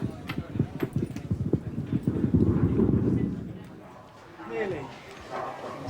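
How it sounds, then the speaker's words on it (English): Rhythmic hoof clip-clops from racehorses moving nearby after a race, with voices talking over them and a louder crowd-like rumble building midway. "Horses away, please."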